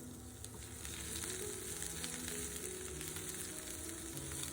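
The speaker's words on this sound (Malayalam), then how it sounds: "വെളിച്ചെണ്ണ ചൂടായി വരുമ്പോൾ നമുക്കൊരു 5 ചെറിയുള്ളി അരിഞ്ഞത് ചേർത്ത് കൊടുക്കാം." Chopped shallots hit hot coconut oil in a pan and the frying swells into a loud, steady crackling sizzle after the first second, then holds without speech.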